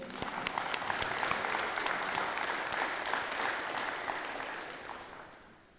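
Sustained audience applause at a high school letter-of-intent signing ceremony, steady dense clapping that fills the room and then thins out and fades toward the end.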